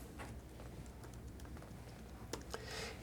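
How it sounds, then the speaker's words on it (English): Computer keyboard typing entering functions for a polar plot, sparse light key taps at close range over a steady low hum, with a brief quicker flurry of clicks near the end. "let's go ahead and type in the functions real quick"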